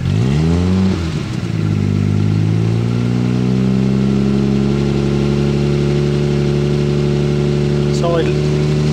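A cold Jaguar E-Type engine gets a quick rev, the pitch rising sharply and then settling into a steady, loud, rough idle that holds for several seconds close to the microphone.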